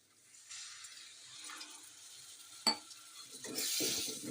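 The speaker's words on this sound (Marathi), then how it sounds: "आता टाकूया थोडंसं पाणी." A soft sizzle and stirring of masala frying for shev bhaji, then a sharp clink and a louder hiss as water hits the hot pan, the sizzling swelling at the end.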